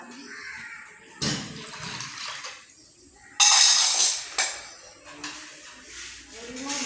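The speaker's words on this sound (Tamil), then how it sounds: "பச்சை தண்ணியில் போட்டு ஒரு தடவை அலசி எடுத்துட்டு" Water splashes and sloshes in bursts as gold-covering jewellery is swished and rinsed in cold water, with quiet pauses between the louder washes.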